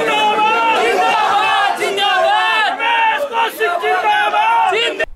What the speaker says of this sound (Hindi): गांव वाले विरोध कर रहे हैं, गांव वाले नारेबाजी करते हैं मुर्दाबाद